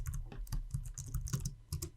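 Computer keyboard keys tapped quickly for an Excel shortcut, a faint, close run of irregular clicky presses with no talking.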